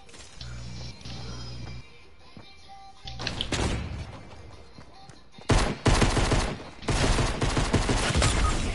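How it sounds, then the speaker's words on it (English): Video game gunfire aimed at the player: loud bursts of automatic fire and mechanical clatter, coming in uneven waves under a steady electronic background, close and harsh. "Oh, they shooting at me."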